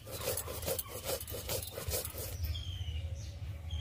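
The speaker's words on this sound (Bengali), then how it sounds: "এই লঙ্কা আর সরষে একসাথে বেটে নিচ্ছি।" Chili and mustard seeds ground together dry on a grinding stone, heard as quick, rhythmic rasping strokes close by that fade after a couple of seconds, leaving a low background hum and faint chirps.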